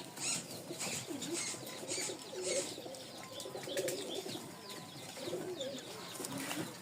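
Fancy pigeons such as Lahore, Jacobin, Pouter, Giribaz and Lotan breeds coo repeatedly in overlapping low calls, mixed with occasional wing flutters and faint chirps from several birds nearby, with no voice present.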